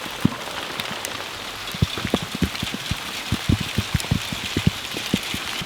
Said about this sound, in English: Those chunks of hail aren't friendly.